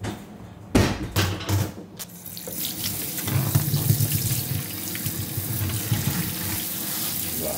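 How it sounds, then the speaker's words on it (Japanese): Taro being washed under a running kitchen tap, water streaming steadily into the sink with a few knocks and clatters near the start, close and fairly loud throughout. "里芋ってこうやって洗うの？"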